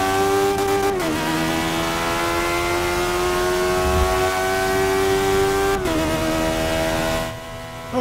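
A Caparo T1 race car in Forza Motorsport 6 screams at high revs, holding a loud steady tone through a lap with two sharp drops and climbs as the engine shifts and recovers, then fades at the end.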